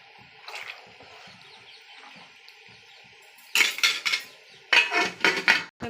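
A spoon scrapes and clanks against a metal cooking pot while onions and chicken are stirred together, starting with faint soft stirring, then several loud, close, irregular metallic knocks and scrapes in quick bursts.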